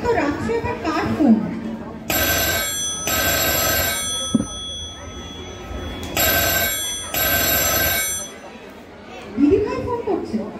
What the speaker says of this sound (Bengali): এত রাত্রে আবার কার ফোন?